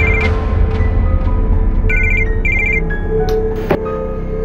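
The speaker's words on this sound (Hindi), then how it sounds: "किसका फोन है?" A telephone rings indoors during a tense domestic scene, repeated electronic ring bursts sounding over a low steady background hum.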